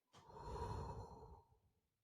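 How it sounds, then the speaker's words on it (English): A single slow, deep breath, soft and close, rises and fades over about a second and a half with an airy, sigh-like exhale, quiet and alone with no talk. "Deep breaths."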